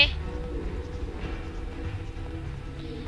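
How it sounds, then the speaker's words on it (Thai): A Thomas the Tank Engine train rumbles toward the player in the horror game The Tunnel, a steady low mechanical rumble with rail clatter filling the whole stretch, moderately loud, with a voice speaking over it. "แล้วรถไฟก็จะมา"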